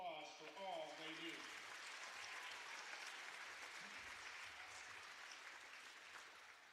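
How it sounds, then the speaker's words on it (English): Spectators at a girls' varsity high school basketball game applaud the officials, a steady wash of many hands clapping in a large gym, fairly distant and sustained, with an announcer's voice at the start. "Please join us in giving these officials a round of applause for all they do."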